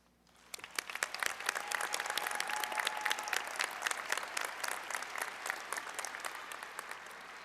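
An audience at a December master's and doctoral commencement ceremony gives sustained applause for graduates, a dense, steady clapping that swells quickly and holds throughout, heard from within a large hall.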